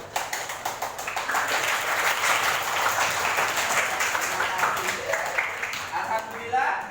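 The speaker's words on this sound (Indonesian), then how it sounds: "Ya, tepuk semangat" A classroom of participants claps together in a patterned 'tepuk semangat' routine, many hands beating fast and fairly loud in a dense run that ends in a few scattered claps, with some voices mixed in.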